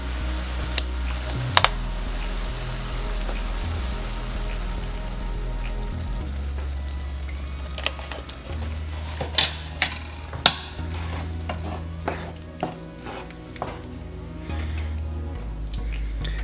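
A creamy pasta sauce of heavy cream with broccoli and mushroom simmering in a pan, a soft steady bubbling fry broken by occasional spoon clinks and stirring scrapes, close by without talk.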